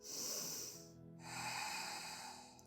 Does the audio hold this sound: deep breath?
yes